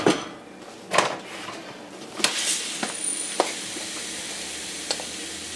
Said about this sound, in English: add 2 cups of quinoa to the boiling water, boiling broth